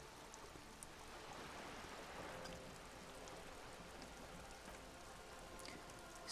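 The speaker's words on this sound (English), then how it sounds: "rain keeps falling down on the wooden boards she's standing on and on the water around you" In the Disco Elysium video game, rain falls steadily onto wooden boards and open water in a soft, even hiss with occasional faint drips, and no voices.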